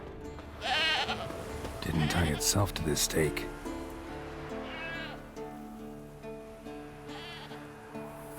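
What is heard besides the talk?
goat bleating in The Witcher 3 video game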